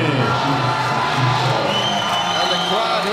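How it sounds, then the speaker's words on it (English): Arena crowd at the Felix roaring and cheering steadily as an Irish MMA fighter makes his walk to the cage, a dense, continuous wall of shouting and whoops at close, loud level. "And the crowd here at the Felix making a lot of noise for Tommy McCafferty."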